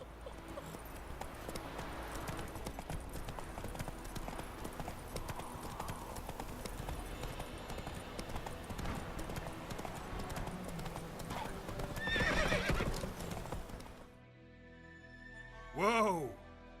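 In The Witcher 3, the horse Roach gallops with steady, rhythmic hoofbeats under quiet talk, the pace building before a brief pause and a clear whinny at the end.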